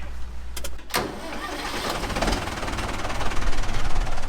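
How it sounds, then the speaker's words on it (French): A heavy tractor engine starts with a few clanks, then settles into a steady, rough rumble that grows slightly louder, during a wheat harvest. "Ça, c'est le tracteur avec la benne pour les semences."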